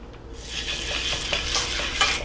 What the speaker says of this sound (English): I'm going to pour a little oil in each pan